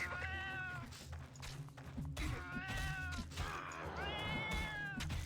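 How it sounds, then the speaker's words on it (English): A cat meows loudly and repeatedly up close, drawn-out plaintive cries in three or four bursts over a low background rumble. "Man, our cat is loud."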